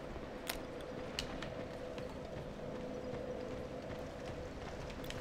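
Horse hooves clip-clopping in the video game Dark Souls 2, a faint irregular series of soft hoofbeats over a dull ambient rumble, with no talk.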